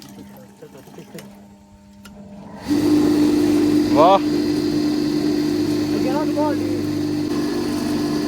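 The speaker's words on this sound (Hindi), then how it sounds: "चलाओ जी मोटर।" A long-idle water pump motor kicks on partway through, jumping from near quiet to a loud, steady electric hum with a strong tonal whine that holds to the end, while people exclaim and talk over it.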